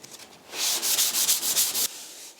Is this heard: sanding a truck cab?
yes